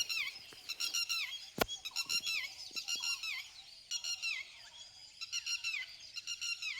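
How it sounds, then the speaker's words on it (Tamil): A red-wattled lapwing gives repeated shrill calls in quick bursts, fairly faint and outdoors, with one sharp click partway through. "மனிதர்கள் இதுங்க இருக்கிற இடத்துக்கு பக்கத்தில் போனாலே நல்லா சத்தமாக ஒளி எழுப்பிட்டு இடத்த சுற்றி இந்த மாதிரி பறக்கும்"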